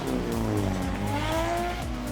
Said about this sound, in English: They're getting their engines revved.